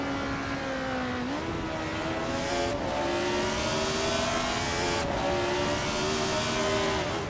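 McLaren M23 race car engine in a racing video game, a loud steady high-pitched drone that shifts up through gears with brief dips, continuous throughout with other cars nearby.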